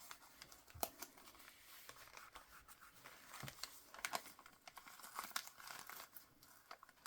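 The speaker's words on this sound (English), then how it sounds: "I'm just going to tear a little spot up here." Packing paper is torn and crinkled with small, scattered rips and rustles, close and fairly quiet, alone without talk.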